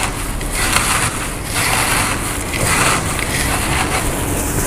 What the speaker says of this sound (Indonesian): Remas-lemas lagi sampai benar-benar hancur.